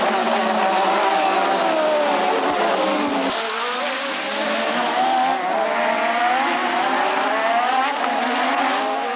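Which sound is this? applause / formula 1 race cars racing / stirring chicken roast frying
formula 1 race cars racing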